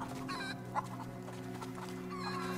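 A rooster in the video game A Plague Tale: Innocence gives a few short, close clucks over a steady low background hum, with no talking.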